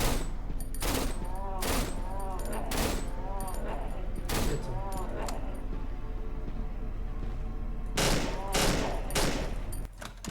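Bursts of rapid automatic gunfire from the video game Cry of Fear, several loud clusters of shots separated by short pauses, with faint mechanical clicks between them.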